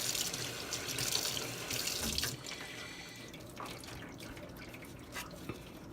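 Tap water runs steadily into a sink to wet a wool-felted glass jar, a close splashing stream that shifts and quiets partway through as the jar moves under the flow.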